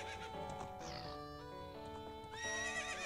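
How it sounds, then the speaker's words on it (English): The horse Epona whinnies in the video game The Legend of Zelda: Ocarina of Time, a clear tonal neigh that wavers and rises, heard close and alone without talk. "what's up with that horse? Is that Epona?"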